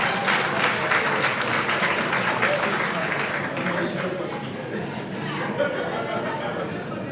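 Audience at a Christian sermon on marriage claps loudly and steadily, the applause thinning toward the end with faint crowd chatter underneath.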